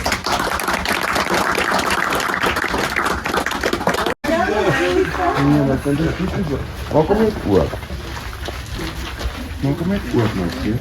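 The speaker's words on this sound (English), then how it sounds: "let's give them a nice round of applause." Dense clapping from a crowd fills the first few seconds, then stops abruptly and gives way to people talking and laughing.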